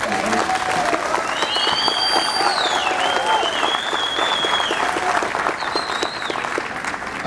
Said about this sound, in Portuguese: Então, por favor, uma salva de palmas.